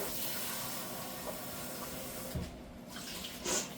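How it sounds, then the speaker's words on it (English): Tap water runs into a bowl in a home kitchen, a steady close hiss and splash that holds evenly throughout with a few small clunks near the end. "I'm gonna get some water. I'm just gonna put it in a bowl really quick."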